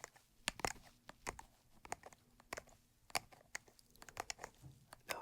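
Raptor Gloves, used as an ASMR trigger, clack in quiet, irregular, sharp taps and clicks close to the microphone, with soft rustling between them.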